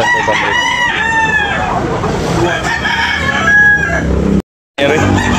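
A rooster crows loudly and close by at a market in Tabunok, Talisay, Cebu, several long drawn-out calls in a row, then a brief gap of silence.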